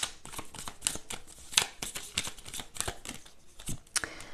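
Oracle cards shuffled by hand, a close, rapid run of crisp riffling flicks and soft slaps repeating irregularly, with no talking.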